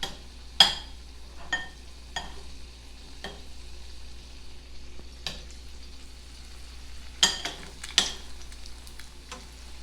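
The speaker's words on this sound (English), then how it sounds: "and you can see how it's sizzling" Oil sizzles softly and steadily while egg rolls fry, with several sharp crackles and pops, and a low hum underneath.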